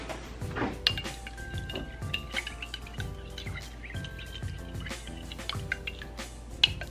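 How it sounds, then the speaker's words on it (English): Pepper steak sauce thickened with cornstarch is stirred in a pan, giving soft repeated scraping and light clinks of utensil on metal at a quiet, steady pace. "Now let's stir this up."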